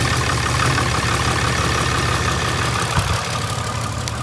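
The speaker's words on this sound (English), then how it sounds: "let's get that first start on the new turbo." A vehicle engine fitted with a new turbo runs on its first start after an oil and filter change, a loud, steady idle with a low rhythmic throb and no voices.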